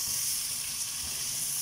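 Sautéed potatoes sizzle in a pan of olive oil, butter and garlic, a close, steady, bright hiss of frying that continues unbroken.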